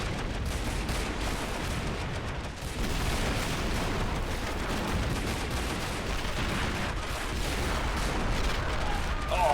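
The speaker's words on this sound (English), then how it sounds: "lots of artillery going back and forth between the two sides" Artillery fire traded between two sides in a war battle video game depicting an American invasion of Canada, a dense, continuous rumble of booming shots and blasts filling the whole stretch without pause.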